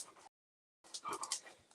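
A dog frightened by fireworks whimpers in short, high whining bursts close by, with a brief silent gap partway through before the whining resumes.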